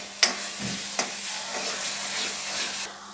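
Spices and boiled potatoes fry in a pan with a steady sizzle and hiss, broken by a couple of sharp stirring knocks near the start.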